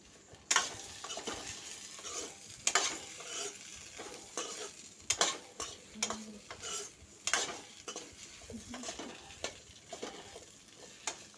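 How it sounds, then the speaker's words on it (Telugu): Okra pieces frying in a little oil sizzle softly while a spatula scrapes and clanks against the pan in repeated strokes, fairly close and quiet. "ఈ విధంగా బెండకాయ ముక్కలు వేసుకొని కాస్త ఆయిల్ వేసుకొని మనము వేయించుకోవాలండి"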